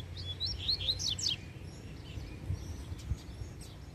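A wild double-collared seedeater, or coleiro, gives a quick burst of bright, high chirping phrases at mid distance, then trails off into fainter tweets against quiet outdoor background.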